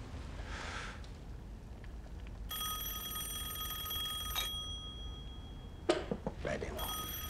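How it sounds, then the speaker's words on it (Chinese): An old desk telephone rings in a period-drama office scene, its bell sounding in two clear bursts separated by a quiet pause with a brief rustle, otherwise alone against soft room tone. "来电话。"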